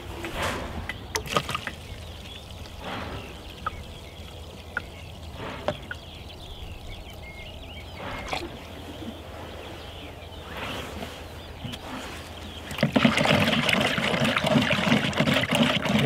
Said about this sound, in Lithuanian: Kur iš karto neištirpo, tai pridedam dar vandens.